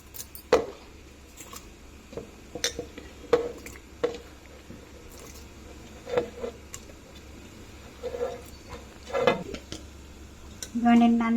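Chopped cucumber and soaked lentils tipped into a pot for dosakaya pappu, with scattered clinks and light clatters of utensils against metal spaced through the clip, fairly close and moderate in level.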